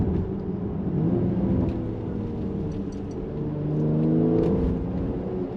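Mercedes-Benz GLC 43 AMG Coupe with all-wheel drive accelerates up a hill, its engine note climbing steadily through the gears in a smooth, close cabin roar that swells toward the end.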